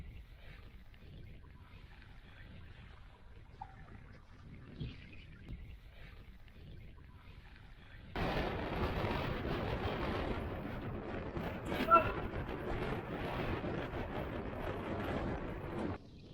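Strong wind gusting across a mountain top, a steady roaring rush that starts suddenly partway through and stays loud and broadband, buffeting the microphone.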